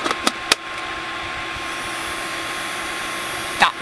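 A small Henry desk hoover running on fresh cheap batteries gives a steady whirring drone after a few clicks, ending with another click, with no talk over it.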